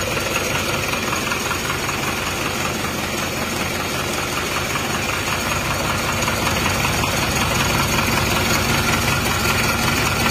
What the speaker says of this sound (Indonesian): sekernya sudah bunyi seperti ini.